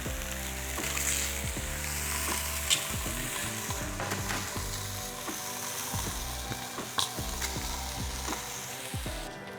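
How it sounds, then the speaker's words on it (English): Beef for an Australian beef sandwich searing in a hot pan, a steady loud sizzle with clattering and scraping of utensils throughout, no talking. "And we just want to sear it on each side there."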